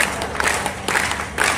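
An audience claps at an all-India kavi sammelan poetry gathering in Guna, Madhya Pradesh. The applause is a dense, steady burst from a crowd that fills the whole brief moment.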